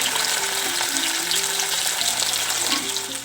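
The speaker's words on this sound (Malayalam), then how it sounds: "മീൻ ഓരോന്ന് പറക്കിയിട്ടിട്ട് ഫ്രൈ ആക്കി എടുക്കാം" Pieces of fish shallow-frying in hot oil in a pan give a loud, steady crackling sizzle that runs without a break throughout, with no talking.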